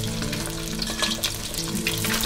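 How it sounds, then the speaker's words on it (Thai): Snakeskin gourami frying in hot oil in a pan, a dense continuous crackling sizzle with scattered sharper pops, close and fairly loud throughout. "เราก็ทอดไปเรื่อยๆเสร็จแล้วเราก็ลองพลิกดูนะคะ"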